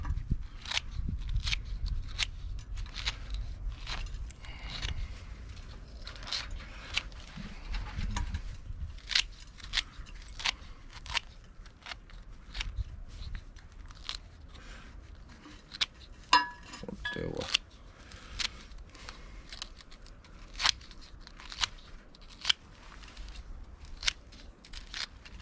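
Worn bonsai scissors snip and crunch through tough roots packed with sand. The cuts come as repeated sharp clicks and gritty crunches at an irregular pace, close by, over a low background rumble.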